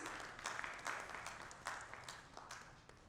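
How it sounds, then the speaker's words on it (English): An audience at a cyber security congress inauguration in Kolkata applauds a guest of honor, scattered claps rising and fading at moderate, somewhat distant volume. "A huge round of applause, please."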